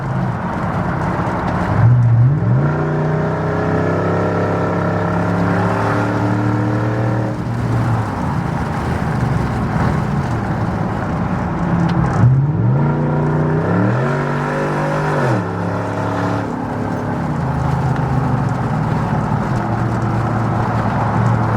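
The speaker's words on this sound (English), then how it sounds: "We'll go ahead and get onto the highway here so you guys can hear the shifts. It actually has a nice little crack to the shifts now." A straight-piped first-generation Ford Raptor pickup accelerates hard onto a highway, its loud exhaust climbing in pitch through each gear, then dropping with a sharp crack at every shift, repeated several times over steady road noise.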